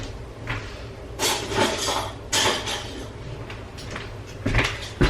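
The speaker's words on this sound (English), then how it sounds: "I'm going to put our lids on." Metal canning lids are set onto glass jars of homemade tomato sauce, a few sharp clinks and clatters spaced a couple of seconds apart over a quiet kitchen background.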